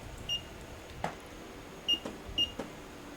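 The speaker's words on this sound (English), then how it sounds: "If you hear a lot of beeping in the background here," Several short, faint electronic beeps sound at irregular intervals over a quiet background hum.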